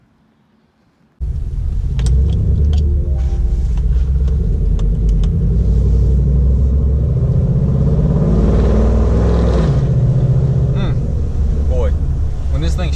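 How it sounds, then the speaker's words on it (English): A pickup truck on Atturo Trail Blade MT tires: a deep, loud exhaust rumble starts suddenly after a second of silence and then drones steadily as the truck drives and shifts gears, heard close from inside the cab. "Boy, when this thing shifts, it sounds so extremely incredible."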